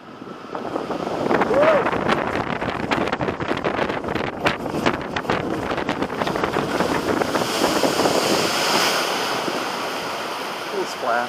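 A roller coaster boat at Europa Park splashes down into the water, a loud, sustained wash of spray and rushing water lasting several seconds, gusting wind buffeting the microphone throughout.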